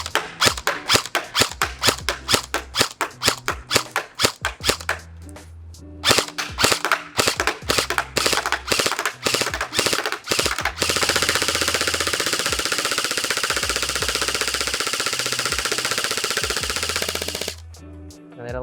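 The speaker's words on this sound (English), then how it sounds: "So let's see how it shoots, just pretty much pulling it out of the box." Lancer Tactical airsoft rifle firing BBs, rapid snapping shots in quick rhythmic bursts with brief pauses, then a longer sustained burst of fire, close and sharp.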